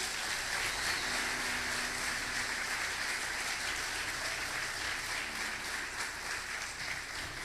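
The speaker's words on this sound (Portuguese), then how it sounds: "Vamos aplaudir mais uma vez" Sustained applause from a church congregation, a dense, steady wash of clapping that holds at an even level throughout with no pauses.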